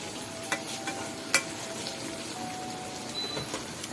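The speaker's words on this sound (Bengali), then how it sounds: "আলু বেগুন মশলা সহকারে একটু ভালো করে নাড়া দেবেন" A spoon stirring a potato, eggplant and spice curry in a hot pan, soft scraping and occasional clinks over a steady low sizzle, close up and without talking.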